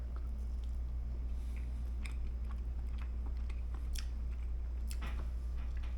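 Someone bites into and chews an omelette cooked inside an egg with ham and onions, giving soft, close, squishy chewing with a few faint crunches over a steady low hum, without talk.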